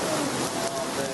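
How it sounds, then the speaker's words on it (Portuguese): Heavy rain pouring down in the western area of a city in Minas Gerais, a dense and constant hiss of drops striking surfaces, loud and unbroken throughout. "Moradores da região oeste já sentiam o começo daquela que seria a maior chuva da história da cidade."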